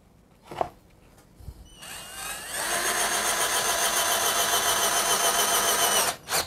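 A Mollar 12-volt cordless drill runs at speed 1 for woodworking, whirring up in pitch and then holding a steady, close motor whine for several seconds before cutting off, with a brief tap at each end.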